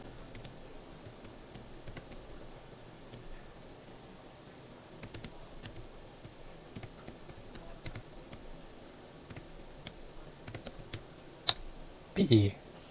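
Fast, irregular clicking of a computer keyboard during hex data entry for the magazine-distributed game Star Dragon, steady quiet keystrokes through the whole stretch with a few louder taps and a brief rustle near the end.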